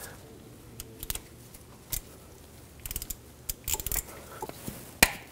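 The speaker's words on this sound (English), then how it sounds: "let's get a 10 millimeter socket and remove that bolt that holds this onto the block." A 10 mm socket works a bolt free from the engine block of a 2012-2017 Toyota Camry 2.5L, giving sparse metallic ratchet clicks and taps, close and fairly quiet, with no one talking.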